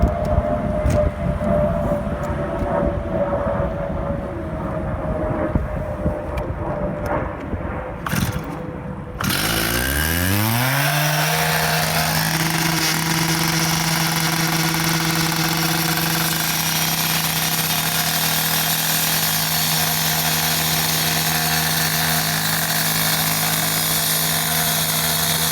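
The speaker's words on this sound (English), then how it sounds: "I just finished doing the saw cuts" A Stihl TS400 cut-off saw cutting asphalt during catch basin repair: a loud engine drone that shifts and revs up midway into a steady, high-pitched screaming whine as the blade bites and grinds on without pause.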